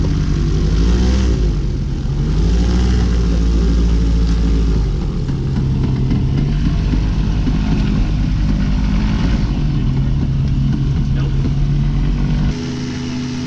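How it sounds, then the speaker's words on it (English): A loud, steady seaplane propeller engine drones close by, its pitch shifting slightly as the plane taxis out for its run-up. "At this point, we're taxiing out to do the run-up."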